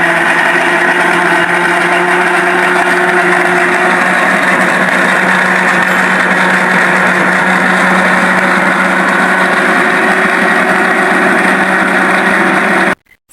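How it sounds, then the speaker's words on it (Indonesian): An electric grinder purees shallots and garlic into a paste, giving a steady, loud motorized whir that runs unbroken for about thirteen seconds before cutting off abruptly. "Sekarang kita haluskan dulu bawang merah sama bawang putihnya"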